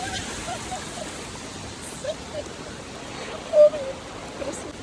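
Rainwater rushing like a river along a flooded Kyiv street during a summer downpour, a steady broadband wash of flowing water that fills the scene, with a brief louder splash or bump partway through.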